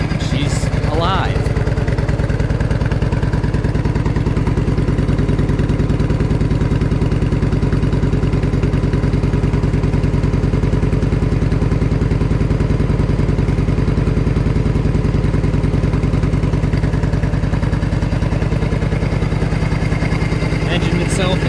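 Harley-Davidson Evo Road King motorcycle with an Evo engine cranks and catches, then settles into a loud, steady, close idle with a lumpy rhythmic pulse throughout.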